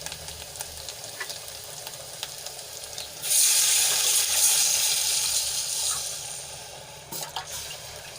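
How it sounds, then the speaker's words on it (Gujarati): Buttermilk poured onto ginger, garlic and green chillies sautéing for kadhi sets off a sudden loud, hissing sizzle that holds for several seconds over a quieter crackle, with no talking. "આદુ લસણ અને મરચાં આપણે થોડાક સંતળાઈ ગયા છે તો આપણે એમાં છાશ એડ કરી લઈશું"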